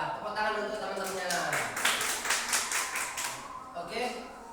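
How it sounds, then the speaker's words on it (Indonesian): Classroom applause for classmates during a teaching practice lesson, a group of students clapping in a dense, steady patter that swells in the middle and fades near the end, with voices talking underneath. "Tepuk tangan untuk teman-temannya."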